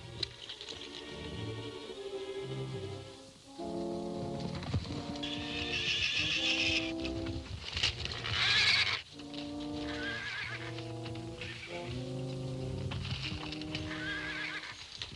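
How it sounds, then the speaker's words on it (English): A horse whinnies repeatedly in a 1937 western film scene with a colt and a pinto stallion, loud neighs rising over a steady clip-clop of hooves and rustling movement, with no talk. "Fine-looking horse for a killer."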